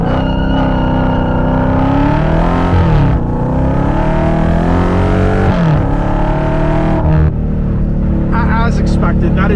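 A 2023 Dodge Challenger Hellcat with a 717 hp engine launches under launch control, its loud engine roaring and rising in pitch through several revving pushes, heard from inside the car.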